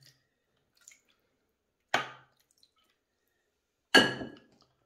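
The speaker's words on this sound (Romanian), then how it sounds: "Adăugăm puțină apă." Water is added to a baking tray of vegetables for roast duck with oranges, heard as two sharp splashing clinks about two seconds apart, close and isolated against near silence.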